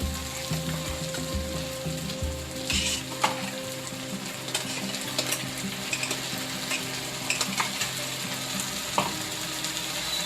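Green chili, garlic and coriander paste sizzling in a pan with softened tomatoes for a bombil chutney, a steady close frying hiss with occasional stirring clinks and scrapes, no talking.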